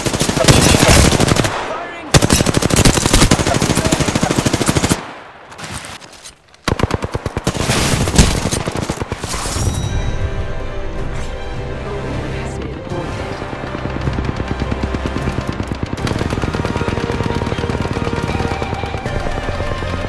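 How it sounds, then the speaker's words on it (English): Apex Legends gunfire from enemy players comes in dense rapid automatic bursts with short pauses, followed by sustained rattling fire under game music and sound effects. "The enemies are shooting at me."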